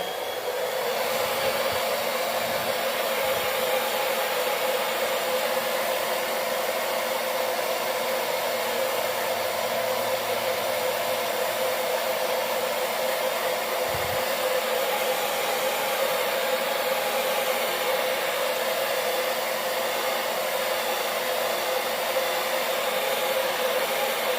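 A hair dryer blows steadily to dry paint on a sunflower welcome sign, a constant loud whooshing hum that runs unbroken for the whole stretch with no talking.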